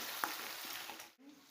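Curry leaves hit hot oil with a short burst of sizzle and crackle, a steady frying hiss that cuts off abruptly near the end.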